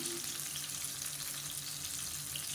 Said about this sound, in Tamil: இந்த தோல் நல்லா சுருங்கி அப்படியே கருகி வரும் அந்த அளவுக்கு நல்லா வதக்கி எடுத்துக்கலாம்